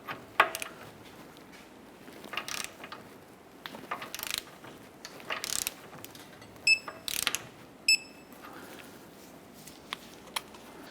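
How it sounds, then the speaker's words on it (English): A torque wrench ratchet tightening the lower ball joint nut on a 2008-2012 Honda Accord front hub, sounding as bursts of close clicking with a few sharp metallic pings between quieter pauses. "Let's go ahead and torque the lower ball joint nut to 60 foot-pounds."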